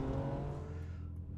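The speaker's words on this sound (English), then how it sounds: "The V12 is a really special engine." A Ferrari V12 engine runs steadily with a deep low hum and layered harmonics, loud and close, then eases off slightly toward the end, with no talking.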